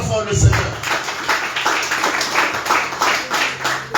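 A church congregation at a Sunday service claps in a steady, rhythmic beat, about three claps per second, fairly loud and close, with voices mixed in beneath the clapping.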